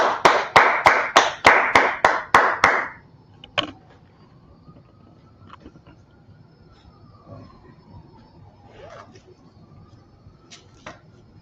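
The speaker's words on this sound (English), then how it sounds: "Clap it up for the class." A class claps together in unison, about nine loud, evenly spaced claps in a brisk rhythm, then it drops to quiet room noise with faint scattered taps.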